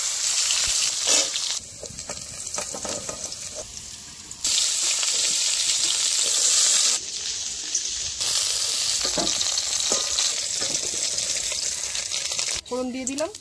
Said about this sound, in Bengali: করলাগুলো ভেজে নিচ্ছি